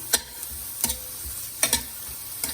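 Capsicum frying for a dosa masala, a soft continuous sizzle broken by a few sharp clinks and scrapes of a spoon stirring in the pan at close range.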